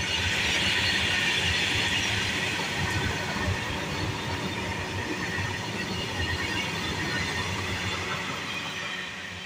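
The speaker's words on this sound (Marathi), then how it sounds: "आता इकडे ट्रेन चालले, हे बघा हे मालगाडी" A freight train rolls steadily past on a railway line, a loud continuous rumble with rhythmic wheel clatter that eases slightly toward the end.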